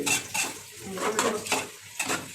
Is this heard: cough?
no